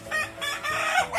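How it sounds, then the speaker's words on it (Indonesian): A rooster crows in a chicken coop, giving one loud, close, strained call with clucking mixed in and no talk. "Kenapa ayam saya di sini sangat aktif sekali, sebentar ngokok ya"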